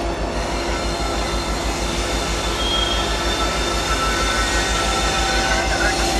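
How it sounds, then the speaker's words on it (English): A CN freight train hauling wind turbine parts rolls past up close, a loud steady rumble with rhythmic wheel clatter and faint metallic squeal running the whole time. "we have something I rarely ever see, is a train taking the cut through over from the Dundas sub over to the Hamilton sub"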